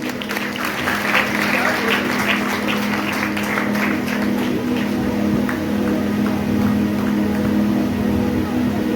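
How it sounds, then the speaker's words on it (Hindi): A church congregation claps for the Lord at an evening worship gathering, a dense, continuous wash of applause lasting the whole stretch with a steady hum beneath and voices mixed in. "क्या ताली बजा सकते हैं आप प्रभु के लिए?"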